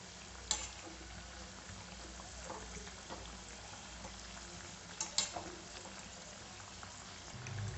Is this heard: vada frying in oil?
yes